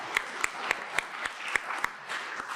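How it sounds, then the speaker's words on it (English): Light applause from a small audience for a conference panel, sparse individual claps standing out in a brief, fairly faint patter. "I'll just give you another round of applause."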